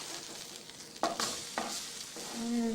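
French toast slices frying in a pan and being flipped, giving a steady sizzle with a few sharp clatters of the spatula turning the bread, close up with no talking.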